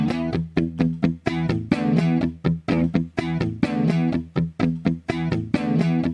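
A distorted guitar riff runs as a loop on a loop station with effects, in choppy, clipped chords on a steady repeating rhythm, loud and close, with no voices.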